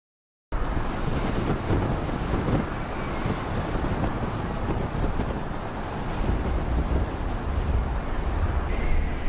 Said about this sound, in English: These waves are quite powerful and high.